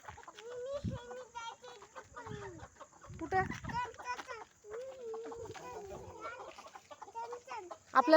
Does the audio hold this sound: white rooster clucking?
yes